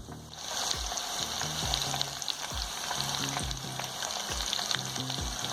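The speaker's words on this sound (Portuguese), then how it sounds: "Aí vamos deixar fritando uns 5 minutos desse lado" Breaded tilapia strips fry in hot oil with a steady, close crackling sizzle, scattered with soft pops and a few clinks from utensils, with no voices over it.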